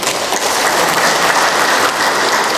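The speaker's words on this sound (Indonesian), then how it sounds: "tepuk-tangan buat Pak Bupati" Loud, dense applause from an audience of district heads, village chiefs and health center heads for the regent at a provincial governor's briefing in NTT, an even wall of clapping with no voice over it.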